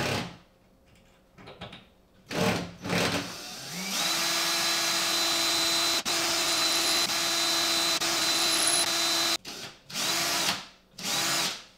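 A power drill bores through tile in a steady, loud, high-pitched whine held for several seconds, with shorter drill bursts starting and stopping before and after it; no talking.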